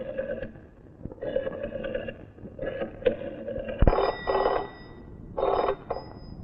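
An old telephone bell rings in repeated bursts, several shrill trilling rings separated by short gaps, clear and close with no voices over it.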